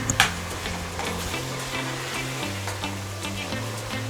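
Chicken kaalu gojju curry being stirred in a pot, a steady soft sizzle with scraping and stirring sounds and a few brief clatters near the start, close and fairly quiet with no talking.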